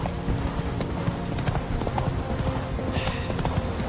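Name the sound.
horse Roach's hooves clip-clopping, from video game The Witcher 3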